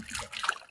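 Short slosh and splash of sea waves against a small fishing boat in rough water, two quick wet bursts close to the microphone.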